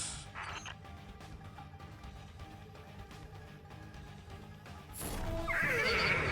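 A horse gives a loud, close neigh at the very start and then a second whinny near the end, with a brighter burst of noise at the finish, over a steady background of music with no talk.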